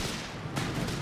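Rapid bursts of gunfire from a Company of Heroes 3 battle, dense and continuous with a sharp crack near the middle, loud and unbroken through the short stretch.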